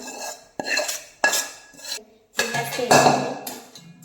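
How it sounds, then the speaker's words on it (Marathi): Bhajka chivda is tossed quickly with spices and salt in a metal pan, producing close scraping, rustling strokes with rattling clinks in several uneven bursts. "आता पटपट मिक्स करून घ्यायचं"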